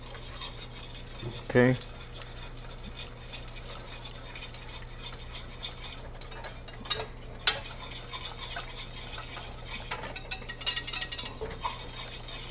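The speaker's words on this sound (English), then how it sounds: "I'm going to put the flour in the oil. Okay, and then I'm going to mix those together." A utensil scrapes and clinks around a pot as chili powder and flour are mixed into oil for homemade enchilada sauce, soft stirring with a few sharp metallic taps and a brief spoken word.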